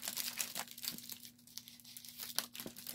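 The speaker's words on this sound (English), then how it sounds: "I'm going to use my hobby scissors here." Close, quiet crinkling and tearing of packaging with a few sharp snips, over a steady low hum.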